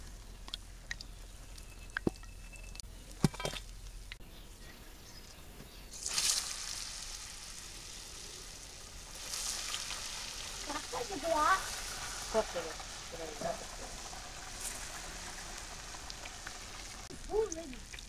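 Flower fritters frying in hot oil, a soft steady sizzle with occasional bursts and stirring scrapes, under faint background voices.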